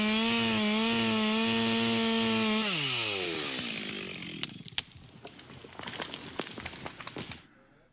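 A chainsaw making the back cut on a tree notched Humboldt-style, a loud steady engine roar that bogs and drops pitch as the bar bites, then fades into scattered cracking and rustling of wood.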